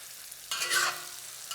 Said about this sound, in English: Then my marinated pork can go in.